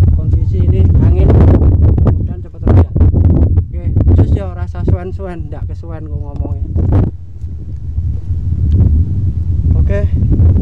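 Strong wind buffeting the microphone beside the Kedung Ombo reservoir as a storm approaches, a loud continuous low roar that runs under a voice for the whole stretch.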